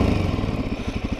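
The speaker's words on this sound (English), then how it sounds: "Now that the bike's been sitting for a little bit of time while idling, good thing to do is give it a little bit of revs." Suzuki DRZ motorcycle engine running up close and loud, a throbbing, rapid rhythmic putter that quickens slightly as it is given revs after idling.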